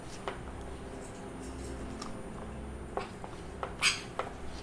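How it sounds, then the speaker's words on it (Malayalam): A spoon stirs sugar into vellayappam batter in a bowl, giving sparse, quiet scrapes and light clinks against the bowl over a low steady background hum. "നന്നായിട്ട് അങ്ങ് മിക്സ് ചെയ്യാം"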